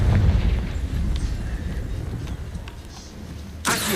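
Confringo blasting-curse explosion from the Hogwarts Legacy video game: a loud low boom and rumble opening the passage, fading into a steady roar, with a sharp burst near the end.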